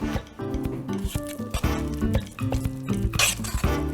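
Utensils scraping and clinking against a pot while stirring a bean dish, in irregular strokes, with some rattling cookware, close and fairly loud.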